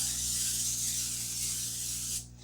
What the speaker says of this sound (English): I'm just going to do a little spray so nothing sticks.